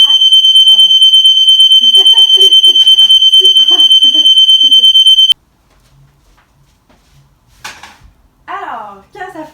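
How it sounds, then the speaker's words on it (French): While something toasts on a kitchen stove, a smoke alarm shrills in a loud, steady high-pitched tone for about five seconds and then cuts off. Soft clatter follows, and a person speaks over it. "quand ça fait 5 minutes que ça chauffe et que l'alarme d'incendie part, ça veut dire que c'est prêt"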